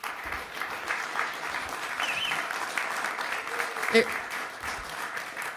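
A school committee meeting crowd claps after a unanimous vote, a steady, fairly loud patter of many hands lasting several seconds with voices mixed in beneath.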